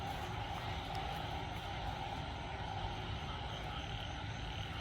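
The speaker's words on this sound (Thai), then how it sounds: "อึ่งโคตรเยอะเพิ่งจะรู้ว่าตรงนี้มันมีอึ่งพวกกระโดดเนาะ" Narrow-mouthed frogs croaking in a dense, continuous chorus outdoors after rain, a steady buzzing wall of calls with a faint background hum.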